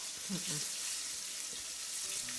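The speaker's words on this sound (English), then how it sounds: "you're gonna fry this for about 7 minutes on each side" Bangamary fish frying in oil, a steady soft hiss of sizzling throughout, with a faint voice murmuring briefly near the start.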